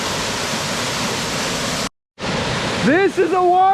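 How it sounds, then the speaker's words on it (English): A white-water waterfall with heavy falling water gives a loud, dense, steady roar that cuts out for a moment and then returns, with a voice talking over it near the end. "This is a waterfall."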